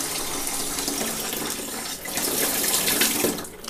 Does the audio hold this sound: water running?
yes